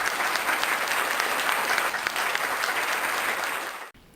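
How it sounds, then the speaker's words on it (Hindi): Audience at a Hindi poetry recital applauding a poet, dense sustained clapping from a crowd that carries on steadily and cuts off sharply at the end. "जोरदार तालियों से उनका अभिनंदन कीजिए"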